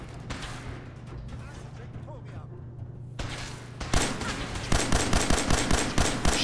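A .44 revolver firing in Fallout 4: a steady run of sharp, loud shots in the second half, with a low droning hum beneath and faint talk in the quieter stretch before.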